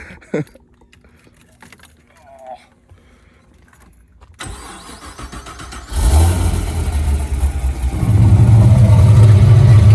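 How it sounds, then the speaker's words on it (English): An LS3-swapped C5 Corvette with its exhaust cutouts open starts up after quiet clicks and rumbles, then builds into a loud, deep engine roar that grows steadily louder. "You got to start it and listen to with the exhaust open, though."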